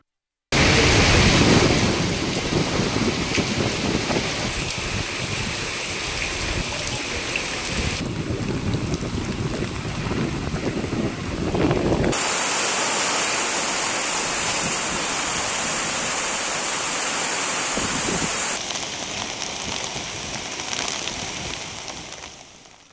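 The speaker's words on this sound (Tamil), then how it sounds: "பாளையங்கோட்டை, வண்ணாரப்பேட்டை, கொக்கரக்குளம் உள்ளிட்ட பகுதிகளில் பெய்த மழையால் சாலைகளில் மழைநீர் பெருக்கெடுத்து ஓடியது" Heavy rain driven by strong wind pours down across Palayamkottai, Vannarapettai and Kokkirakulam in Tirunelveli, a dense, unbroken roar of downpour and runoff that shifts in texture between several stretches but stays loud and steady throughout.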